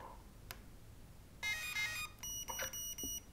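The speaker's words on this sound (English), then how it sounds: "Once you hear 4 beeps, let go of the trigger." A Furitek Cyclos brushless sensored electronic speed controller beeping during calibration, first a rapid chirping sequence, then several evenly spaced musical beeps, quiet and close.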